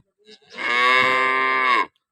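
A single long, loud moo from a dairy cow nearby, held steady for over a second before cutting off.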